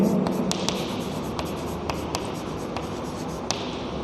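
Chalk or marker strokes as a solution to a B.Sc mathematics problem is written on a board, a steady run of close scratching with brief tapping accents and no talk.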